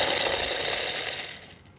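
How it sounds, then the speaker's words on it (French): Lottery balls clatter and rattle together in a prize-draw machine, a dense mechanical churning that is loud at first and then tapers off over about two seconds, with no one speaking. "on va tirer les boules une à une"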